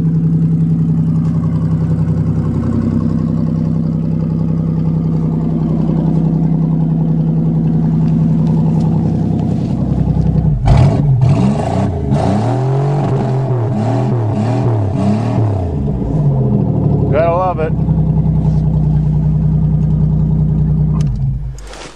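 A 1990 Buick Century with the 3300 engine cold-starts in winter and settles into a steady, loud idle with a brief rev partway through.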